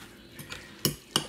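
Utensils clink and scrape against a pot or bowl while spicy noodles are stirred, with a few soft taps followed by two sharp, close metallic clinks.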